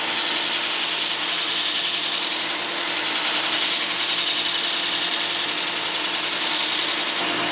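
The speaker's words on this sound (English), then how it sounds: "generally shape it using the coarse belt on the belt sander here" A belt sander with a coarse belt rough-shapes a knife's grip scale, giving a continuous close, loud abrasive whir and rasp that holds steady throughout.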